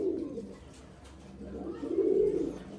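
Pigeons coo in soft, throaty rolling calls, close by, with a second swell of cooing toward the end.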